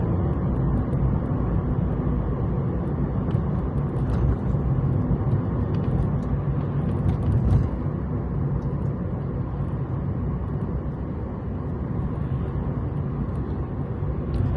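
Steady low engine and road rumble from inside a car driving through Blackpool streets, continuous and even throughout with no talking, a constant drone of tyres and motor.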